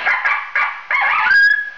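Howl calls played through a home-made electronic predator caller, several short wavering bursts in a row, loud and close, the last one ending in a drawn-out steady tone.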